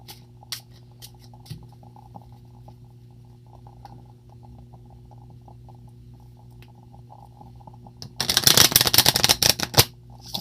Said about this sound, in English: And now you will see that I have shuffled them